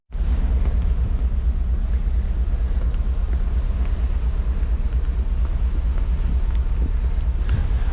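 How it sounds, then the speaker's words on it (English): Wind on the deck of a cruise ship sailing the Amazon, a loud steady roar and rumble buffeting the microphone, with a constant low-end wash throughout and no voices. "It's time to enjoy this breezy weather as it gets very warm."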